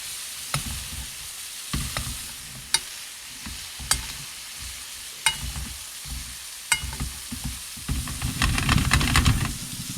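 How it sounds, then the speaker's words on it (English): A New York strip steak sizzles steadily as it is basted in butter with thyme and spices in a pan, with sharp spoon clinks at intervals and a louder burst of frying near the end; no one speaks. "Now that you've added that butter, it's kind of like deglazing that pan."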